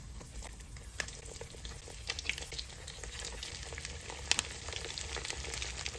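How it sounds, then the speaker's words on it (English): Eggplant frying in hot oil gives a faint, steady sizzle with scattered small pops and crackles, heard up close throughout with no one speaking. "while the eggplant is frying"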